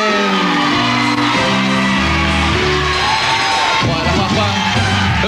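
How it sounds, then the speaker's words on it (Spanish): Loud, continuous cheering, whooping and shouting from a TV show's studio audience, steady throughout with tonal music-like layers underneath. "Un fuerte aplauso para Mari Carmen."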